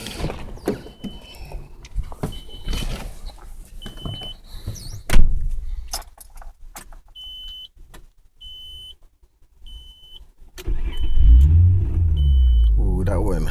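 A 1996 Nissan Maxima engine cranks and fires near the end, settling into a loud, high idle, after clicks, faint repeating chimes and nearby talk.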